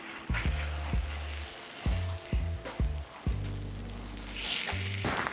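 A beef patty dropped onto a hot griddle while making a bacon burger, with a steady close sizzle and crackle of frying fat under a repeating low musical beat.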